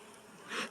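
Honey bees hum and buzz at an opened hive during a beekeeping check, a steady close drone swelling louder toward the end of a very short moment.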